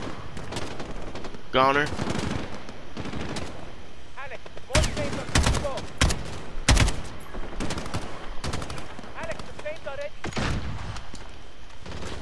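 Gunfire in Call of Duty Modern Warfare: repeated sharp shots and automatic bursts, some close and loud, others farther off, mixed with a voice speaking briefly over the battle.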